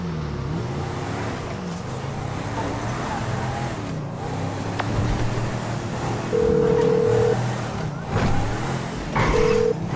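A car driving in Grand Theft Auto V, its steady engine hum running throughout with game voices talking over it and a few short electronic tones.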